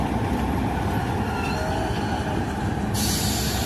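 A railroad train passes while switching cars, giving a steady loud rumble of wheels on track with a brief high squeal toward the end and no voices.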